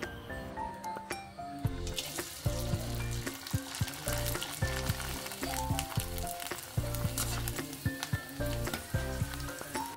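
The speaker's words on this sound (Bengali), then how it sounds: "তো চলো এবার তোমাদের দুটো জিনিসই ভেজে দেখাই কতটা সুন্দর হয়েছে।" Sun-dried potato chips and rice papad fry in hot oil, giving a loud, continuous sizzle close by, with occasional stirring clinks and pops.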